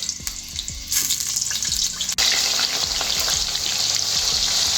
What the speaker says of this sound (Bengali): এগুলো ভেজে নেবো একই রকম ভাবে